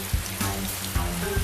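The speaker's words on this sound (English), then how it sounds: "It rains a lot here." Rain patters on a surface with soft irregular taps over a steady wash of noise, close and fairly quiet, at Mintaro Hut on New Zealand's Milford Track.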